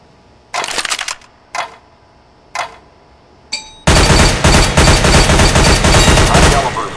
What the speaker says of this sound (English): Fire in short, controlled bursts.